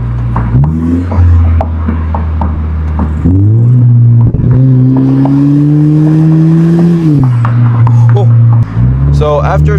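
A Lexus IS's loud aftermarket exhaust drones and rises as the engine revs through gears while driving, with a person talking over it.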